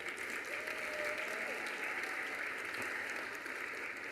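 Faint, steady applause from an awards ceremony audience honoring award recipients, a soft continuous wash of clapping heard from a distance throughout.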